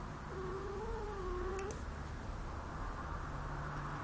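A male cat yowling at a female cat, one drawn-out wavering moan lasting over a second, heard fairly close against a steady background hiss and hum, with no talking.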